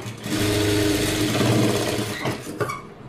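A sewing machine stitches a blouse with puff sleeves, running as a steady, close mechanical hum for most of the clip before slowing and stopping with a few light clicks near the end.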